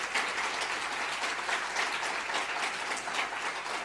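Church congregation applauding during a Sunday service, a steady, moderately faint patter of many hands clapping without a break and without talk.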